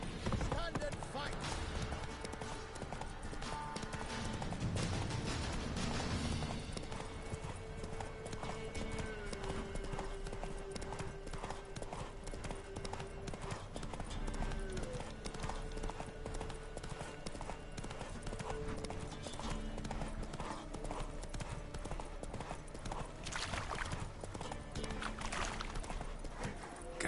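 Roach the horse's hooves clip-clop steadily in The Witcher game, a continuous rhythmic trotting under music and a few spoken lines.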